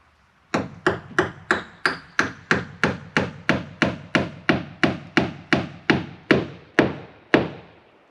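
A hammer drives a nail into OSB sheathing on a pallet house wall, about seventeen sharp, evenly spaced blows ringing out close and loud, with a brief pause before the final strike.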